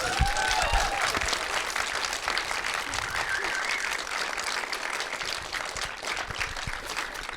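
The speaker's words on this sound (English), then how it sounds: "Can we have another round of applause?" Audience at a Reconciliation Week conversation event giving a sustained round of applause, a dense even roar of many clapping hands lasting throughout with a few faint whoops.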